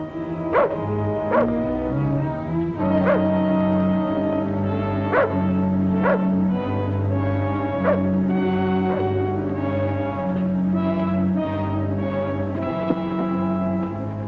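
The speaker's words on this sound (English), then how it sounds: "Look out for the dog." A dog barks repeatedly in an old 1950s western TV scene, sharp evenly spaced woofs and yips ringing out over a sustained musical score, fairly close and loud, with no talking.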